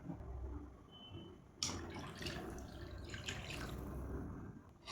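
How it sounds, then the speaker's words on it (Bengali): Water poured from a vessel into a cooking pot on a home stove while a curry cooks, a steady close splashing stream that thickens partway through, with no talking. "আর একবার জল দেবো, ঠিক কতটা পরিমাণে।"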